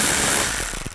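Ratchet clicking rapidly while a 10mm socket backs out bolts from the door of a 2005-15 Nissan Xterra during window regulator replacement, close and steady, fading into separate clicks toward the end.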